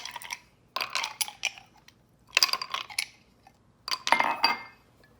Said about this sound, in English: Add some ice cubes to my cup.